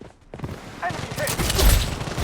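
Gunfire in the shooter game Blood Strike, loud bursts of fused shots building toward the end amid dense game sound effects and a voice-like callout.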